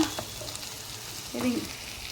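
Tomatoes go into a hot pan for chicken curry, giving a soft, steady sizzle with a brief stir or clatter, fairly quiet and close, with no talking.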